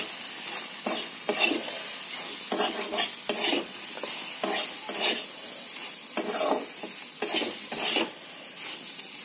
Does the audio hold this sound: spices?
yes